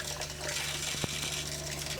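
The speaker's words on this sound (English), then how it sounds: "Give the hot water handle in the sink a try." Hot water runs steadily from a sink tap inside a camper near Zion National Park, a continuous close hiss and splash with a faint hum beneath and one small knock partway through.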